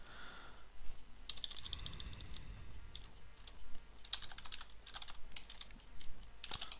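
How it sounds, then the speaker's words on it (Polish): Someone types a database name on a computer keyboard: quick bursts of close, crisp key clicks with short pauses between them in a quiet room. "Tutaj wpisuję nazwę bazy danych."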